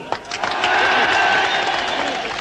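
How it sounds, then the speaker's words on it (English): Spectators at a Santa Pod drag race cheer and applaud, a loud sustained wash of clapping and crowd noise rising quickly and holding steady, with a voice mixed in. "A great big cheer, Peter Crane."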